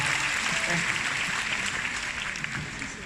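Steady, dense clapping from a big audience at an Asia Pacific Convention general session, a full round of applause that holds strong before easing slightly toward the end.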